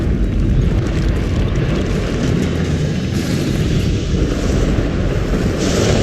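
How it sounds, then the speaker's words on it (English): A loud, sustained rumbling bloodstone explosion in the video game Guild Wars 2, a deep roaring blast that fills the scene continuously with heavy low-end rumble and no voices. "That bloodstone explosion seemed to trigger some sort of magical echo."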